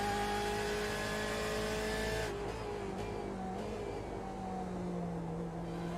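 A GT race car engine in a sim-racing sprint series sounds loud and steady as the driver starts a flying lap, its pitch dropping at the first corner and then droning on at a lower note.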